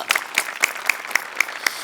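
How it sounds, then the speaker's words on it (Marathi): Applause in short rhythmic bursts, about seven sharp even claps in under two seconds, close and crisp with no crowd noise beneath. "जोरदार टाळ्या"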